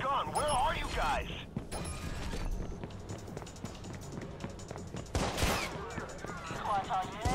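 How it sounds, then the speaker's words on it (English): Gunfire in the video game Watch Dogs, with bursts of shots and mechanical clatter mixed into busy game sound, plus radio-style voices and chatter over parts of it. "Someone's firing a gun."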